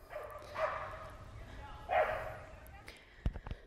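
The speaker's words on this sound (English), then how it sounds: "Excuse me for the dogs." Several dogs bark and yip indoors in a couple of loud bursts followed by a few sharp closer barks near the end, while a person talks in between.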